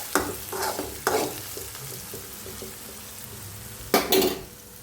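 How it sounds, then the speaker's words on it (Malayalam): Ginger, garlic, shallots and green chilies with mustard seeds and dried red chilies sauté in a pan for ginger pachadi, a soft steady sizzle broken by a few loud scraping stirs of a spoon against the metal. "വഴറ്റിക്കൊണ്ടിരിക്കുകയാണ്."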